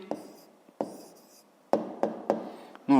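A pen writing an answer by hand on paper in a fifth-grade maths exercise, with close, crisp scratching strokes and several sharp taps in short bursts separated by brief pauses.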